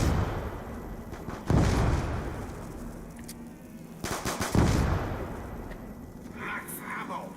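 Dual-wielded guns in a first-person shooter fire in rapid bursts, two loud volleys with quieter crackling between them, while a voice talks over the game audio.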